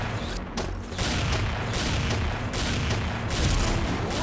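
Dense, sustained gunfire from a machine sniper rifle in the XSHOT shooter game, a rapid continuous barrage of shots with heavy booming bursts that fill the whole stretch at steady loudness.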